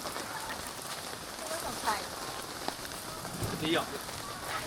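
Rain during a rainy-season tent camping trip at D.I.N Family Camp in Kaeng Krachan, a steady close hiss of falling water with faint rising chirps and a soft knock or two over it.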